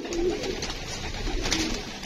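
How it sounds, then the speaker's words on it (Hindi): A bafta pigeon coos softly among other pigeons, a low murmuring call that rises briefly near the start and again later over a steady rustling background. "दोस्तों एक बाफ्ता कबूतर दिखा रहे हैं"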